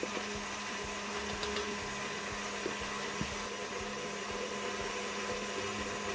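An electric mixer whipping a key lime pie topping with powdered sugar at high speed, producing a steady, loud motor whine with faint intermittent clicks and bumps of the beaters against the bowl.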